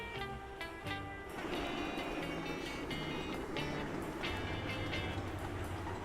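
A bread train in the rail-building game Sweet Transit rolls along with a soft rumble, rhythmic clicks and tonal chimes and hums layered on top, fairly quiet and steady with no talk.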